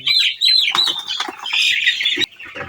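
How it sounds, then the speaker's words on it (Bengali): Broiler chickens squawk and cluck loudly in a flurry, with wings flapping and scuffling as birds are grabbed; no talking. "এখানে মুরগি ধরতেছি"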